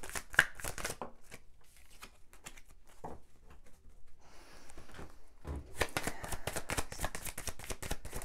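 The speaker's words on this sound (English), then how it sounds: "if you don't want to watch me shuffle" Tarot cards being shuffled in quick riffling bursts, a quieter pause in the middle, then a longer run of rapid flicks and taps.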